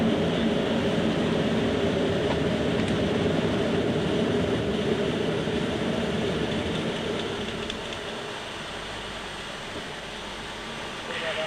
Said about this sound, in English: Chris, could you select the nose and visor up now,